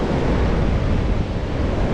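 Ocean surf rolling onto a beach in El Salvador, a steady broadband wash of waves with wind buffeting the microphone throughout, fairly loud and continuous with no talking.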